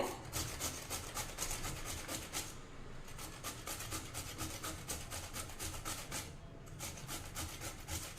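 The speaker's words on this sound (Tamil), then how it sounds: "இப்போ இந்த வாழைக்காய் வந்து நம்ம துருவிக்கலாங்க" Raw plantain being grated gives a rapid, rhythmic rasping scrape that repeats steadily at close range. There are two brief pauses and no talk.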